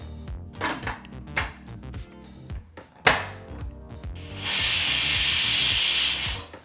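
Steam hisses steadily from a pressure cooker of sambar, a bright sustained rush lasting a couple of seconds after some clattering of pots and utensils, close and fairly loud.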